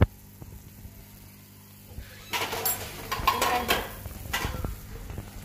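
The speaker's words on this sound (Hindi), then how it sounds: "इसमें मैं थोड़ा सा चम्मच चलाऊंगी, मैं चम्मच चलाया इसमें" A spoon stirs a pot of sweet vermicelli, producing scraping and clinking metal sounds that start after a brief quiet moment and continue irregularly to the end.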